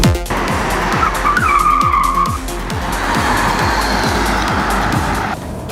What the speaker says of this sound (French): Moi je préfère enclencher le mode sport et apprécier chaque accélération et monter en régime pour profiter d'une belle sonorité.